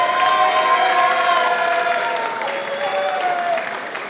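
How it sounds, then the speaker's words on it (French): Audience applause fills the hall at the World Barista Championship France 2017 final, a loud, steady wash of clapping with some cheering mixed in, lasting throughout. "Un tonnerre d'applaudissements"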